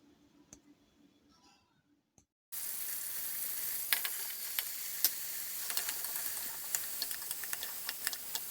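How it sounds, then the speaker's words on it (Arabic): Onion frying in a pan for a seafood soup, a sudden steady sizzle that switches on abruptly after a quieter start and keeps hissing with small crackles and pops, close and even. "ملي تشحر ليا هذاك البصيله"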